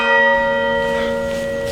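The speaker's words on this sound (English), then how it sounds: "The bell invites me." A church bell tolls with a long, ringing hum that slowly fades, heard alone and fairly loud.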